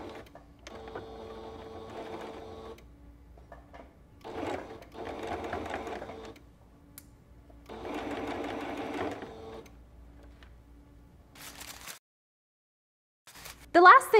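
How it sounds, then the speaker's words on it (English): A sewing machine stitches a ruffle onto a baby onesie in three steady bursts with short pauses between, close and fairly quiet, ending in a brief handling clatter. "So just make sure to keep an eye on your needles as you're stitching down your ruffle."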